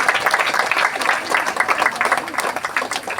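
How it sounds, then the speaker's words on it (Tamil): A congregation at an apostolic church Christmas meeting claps in a lively, continuous patter, with voices talking over the applause throughout. "நல்ல கைத்தட்டு கொடுங்க."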